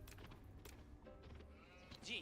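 Sheep bleating in Age of Empires IV, a faint bleat rising near the end over busy game sounds and background voices.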